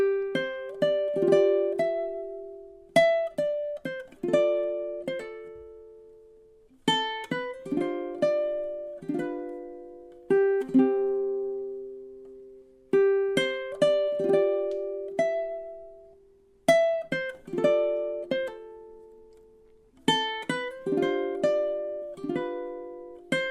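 Ukulele picks out the verse melody of a song, plucked single notes ringing in steady phrases with short pauses between them, close and clear with no voices.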